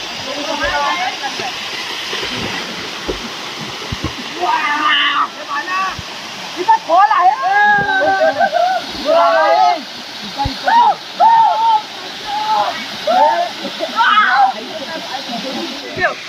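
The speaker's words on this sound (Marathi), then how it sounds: "धबधबा वरती आणि हा ढव आपला बघा" A waterfall roars steadily in the background while someone talks loudly over it.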